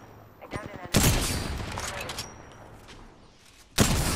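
Video game gunfire: a few quick shots lead into a loud sustained burst of rapid fire, then quieter noise and a second loud burst at the end, with someone talking over it.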